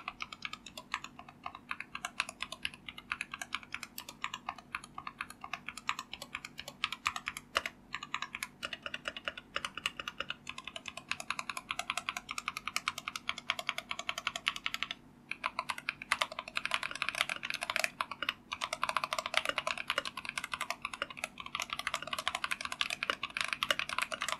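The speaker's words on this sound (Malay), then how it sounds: "So ini typing test untuk Techwear Phantom Plus Elite delete red switches." Continuous fast typing on a Tecware Phantom Plus Elite keyboard with linear red mechanical switches, soft clacky keystrokes in a steady stream, close and moderately quiet, with no voices.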